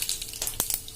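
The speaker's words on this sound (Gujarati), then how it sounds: "તો આપણું તેલ પણ ગરમ થઈ ગયું છે, તો વઘાર કરશું આપણે। એમાં અડધી ટીસ્પૂન રાઈ નાખશું, અડધી ટીસ્પૂન આખા ધાણા નાખશું" Mustard seeds and whole coriander seeds hit hot oil for a tempering, giving a brief close crackling sizzle with a couple of sharp pops.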